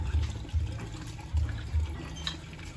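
Water from a hand pump in a rural provincial setting gushes in repeated low surges about every half second, a steady rhythmic pumping with splashing, close by and moderately loud.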